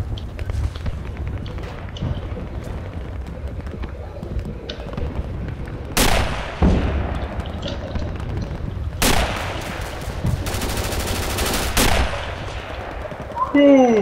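Rifle gunfire rings out in a first-person shooter video game, with a few scattered shots, then sharp loud bursts and a rapid sprayed volley near the end over a low rumbling background.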